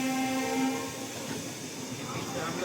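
A diesel-hauled Shatabdi Express on the Kanpur service rolls past at a station, with a steady loud rumble of wheels and wagons and a sustained horn-like tone early on.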